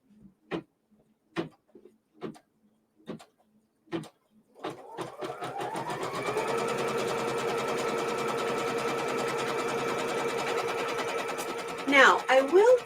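A sewing machine stitches fabric directly onto stabilizer for a 54-40 or Fight quilt block. A few sparse clicks come first, then a steady, close mechanical whir runs for several seconds and ends with a brief rattle.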